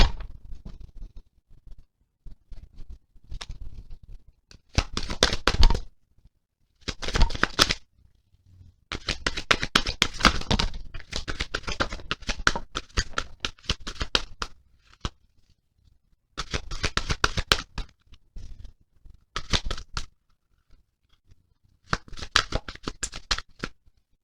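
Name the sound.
shuffling tarot cards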